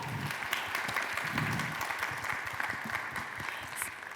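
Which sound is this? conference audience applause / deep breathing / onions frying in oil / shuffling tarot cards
conference audience applause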